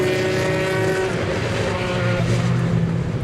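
Race cars at the Le Mans 24 Hours slowing hard for the Arnage corner, a loud, continuous roar of engines with shifting pitch, close and dense throughout with no voices.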